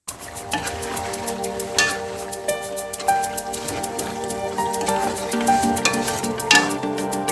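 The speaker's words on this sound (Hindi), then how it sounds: "3 से 4 टेबलस्पून भर के आपने इस पे दही के डाल देने हैं और फिर इसको अच्छी तरह से मिक्स कर लेंगे" A spoon stirs yogurt into chicken masala in a pot while preparing Punjabi-style Qabuli pulao, with repeated scraping and wet clinking strokes over a light sizzle, close and fairly loud.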